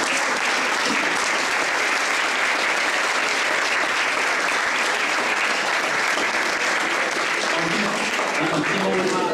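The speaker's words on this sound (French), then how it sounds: "je voulais avoir des applaudissements énormes" Sustained, dense audience applause fills a conference hall at a debate on freedom of expression, steady and loud throughout with no break.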